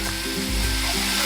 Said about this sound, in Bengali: আমি মাছগুলো কিন্তু কড়া করে ভাজবো না বন্ধুরা, হালকা করে ভেজে নেব